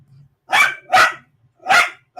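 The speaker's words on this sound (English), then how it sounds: "I'm gonna also miss that barking for like the next few weeks" A dog barks three or four times in sharp, loud bursts spaced about half a second apart, close by, with a faint low murmur between the first barks.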